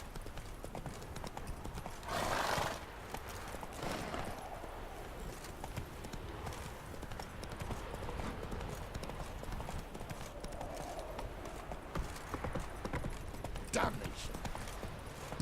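Horse hooves clip-clop steadily on the ground in The Witcher 3 video game, with a brief whinny early on and voices faintly present over a continuous background bed.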